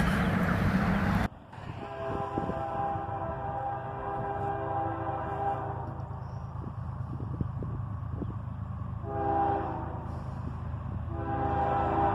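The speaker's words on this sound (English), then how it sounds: "Three locomotives on this guy, an ES44DC, an AC44CW, and another ES44DC." A CSX freight train headed by three locomotives, two ES44DCs and an AC44CW, rumbles past nearby with a steady low roar, wheel clatter and ringing metallic tones, swelling slightly near the end.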